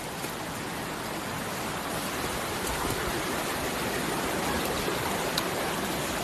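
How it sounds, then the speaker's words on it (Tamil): Washpen Falls on New Zealand's South Island pours in a steady, unbroken hiss of falling water, a constant broadband rush heard close with no voices. "இதாங்க அந்த ஃபால்ஸு"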